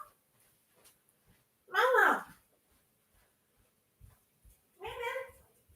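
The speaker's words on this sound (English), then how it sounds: "I think I'm just going to go get Mary because she's meowing." A pet cat meows twice indoors, two short close calls about three seconds apart in an otherwise quiet room.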